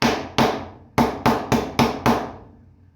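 A hammer strikes a metal punch through leather, seven sharp, loud blows in an uneven rhythm, each ringing briefly before the next hit.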